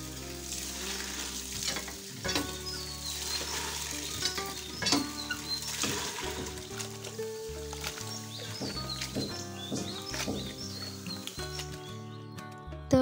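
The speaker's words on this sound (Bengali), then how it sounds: "এই যে এখানে ইলিশ মানে ঝোলটা ফুটছে আর কি" Hilsa fish curry bubbles and sizzles in a pot on the stove, a steady close crackling simmer with scattered clinks and background kitchen noises throughout.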